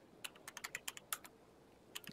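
Quiet, close typing on a computer keyboard: a quick burst of about a dozen crisp key clicks in uneven rhythm, a brief pause, then a few more taps.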